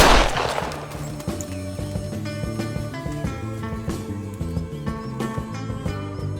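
A single sharp gunshot bursts out at the very start, loud and close, then fades under a steady musical score that carries on to the end.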